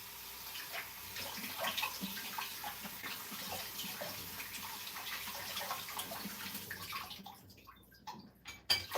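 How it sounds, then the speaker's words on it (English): Tap water runs steadily over a sweet potato being washed at a home kitchen sink, a close continuous splashing hiss that thins into scattered drips and handling clatter near the end. "I have a sweet potato that I'm going to wash and put in."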